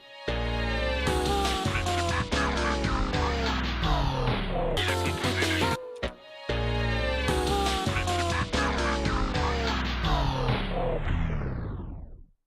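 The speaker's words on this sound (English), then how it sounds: "That's the best way that you can explain a tape stop. It's a sound a tape deck makes when you pull the power." Dense electronic artcore track playing at full loudness, then an exaggerated tape stop on the master drags everything downward in pitch until it fades out, with a brief dropout partway through.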